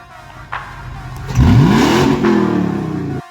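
Toyota 4.7 V8 with a 3-inch straight pipe exhaust gives one quick free rev. After a soft idle, the engine surges into a loud rising roar and holds briefly before cutting off, heard up close.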